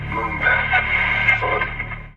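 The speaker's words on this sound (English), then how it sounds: "Earth receives a mysterious transmission from Mars." Mysterious radio transmission from Mars in the space game Deliver Us Mars: a steady, dense band of crackling, tonal radio static with wavering whistles and warbles, sustained and fairly loud across the whole short stretch with no clear speech.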